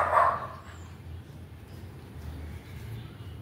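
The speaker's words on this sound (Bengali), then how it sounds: "কত কুকুর এসছে দেখো" A dog gives a single short bark at the start, then faint outdoor rain noise continues with no voices.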